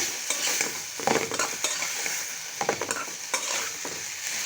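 Beef and potato mince frying with turmeric powder is stirred repeatedly in a pan, rhythmic scraping strokes over a continuous sizzle, close and clear, without talk.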